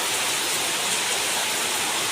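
Heavy rain pours down in a dense, steady roar, loud and close, with no other sounds breaking through.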